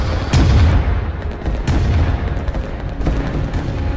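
Artillery fire in a strategy video game set during the Qing dynasty: three heavy booms land about a second apart, each with rumbling decay over a churning battle din.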